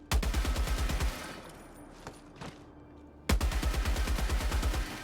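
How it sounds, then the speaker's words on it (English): Heavy machine gun in the video game Helldivers fires in a loud, rapid, near burst, falls quiet for about two seconds, then opens up again in a second sustained burst. "now we have the heavy machine gun, and real quick I want to show you the recoil for this monster"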